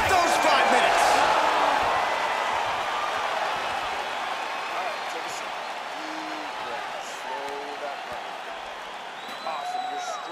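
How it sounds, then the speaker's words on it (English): Video-game arena crowd in a UFC bout between Volkanovski and McGregor on PS5, roaring and applauding loudly after round three, then slowly fading to a steady murmur with a few whistles near the end. "So the crowd voicing its appreciation after that round"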